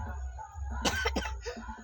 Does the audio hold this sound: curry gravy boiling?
no